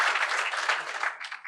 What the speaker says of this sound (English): Give Simmons Bank one more round of applause for all their hard work and dedication